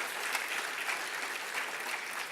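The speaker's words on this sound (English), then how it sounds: "That deserves a round of applause." An audience at a Los Angeles gala applauds in a steady, even wash of many hands clapping, moderately distant and fairly soft throughout.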